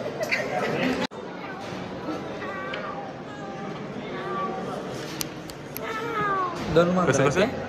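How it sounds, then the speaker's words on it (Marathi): Two cats meowing and yowling in a few short drawn-out calls, heard over a steady background of chatter and crowd noise. "दोन मांजर."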